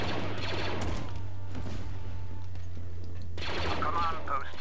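Blaster fire rattles in bursts in a Star Wars Battlefront 2 capital ship siege, a continuous battle din under a steady low hum, with brief voices in the game mix.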